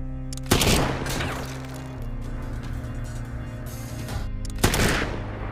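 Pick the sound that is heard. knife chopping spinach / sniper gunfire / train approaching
sniper gunfire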